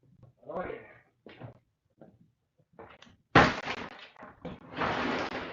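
Glass shatters with a sudden sharp crash while old light fixtures are scrapped, followed by a longer scraping, tinkling spill of broken pieces. Scattered bumps and some talk come before the break.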